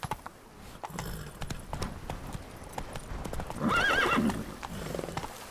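Horse hooves clip-clop at a steady gallop in The Witcher 3, joined midway by a loud, wavering neigh; the rider urges the mount on with short shouts.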